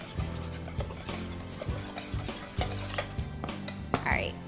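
Dry ingredients for chocolate protein bars mixed in a bowl with a utensil, with repeated clinks and scraping strokes against the bowl in an irregular rhythm, close and fairly quiet, plus a brief higher scrape near the end.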